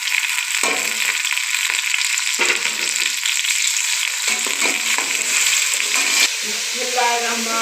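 Chicken pieces dropped into a hot pan for Chinese-style chicken rice fry with a loud, steady sizzle throughout, broken by scraping stirs and clatter; a voice speaks briefly near the end.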